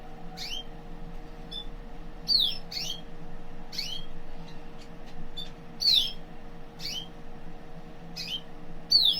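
Red mosaic canary gives sharp, high chirps and squawky notes in repeated short bursts over a steady background hum, moderately close, with no people talking.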